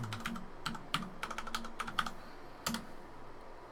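Fingers typing a password on a computer keyboard: quick bursts of crisp key clicks in irregular clusters, close and fairly quiet, with short pauses between runs of keystrokes and no talking.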